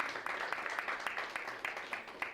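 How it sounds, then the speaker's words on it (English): A small audience at a conference launch applauds Gaga CFM, fairly quiet, with steady scattered claps over a couple of seconds and faint talk in the background. "Please give them a round of applause for that."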